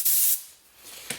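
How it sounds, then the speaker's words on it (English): A short hissing blast of compressed air from an air gun during a clutch slave cylinder rebuild, loud for a third of a second, then fading with a faint second puff. "All you need is a bit of compressed air."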